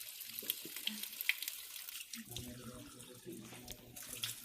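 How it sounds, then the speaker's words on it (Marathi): Water trickles and splashes into an old stone temple tank, faint and close, with a gentle, uneven flow and soft voices in the background. "कुंडाकडे पाणी कुठून येतं काय माहिती."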